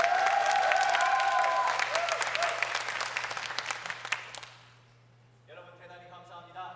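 A crowd at a church youth worship team performance breaks into loud, dense applause that tapers off after about four seconds, and then a single voice begins speaking.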